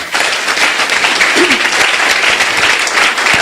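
A church congregation applauding to acclaim the Lord, with loud, sustained, dense clapping close by throughout.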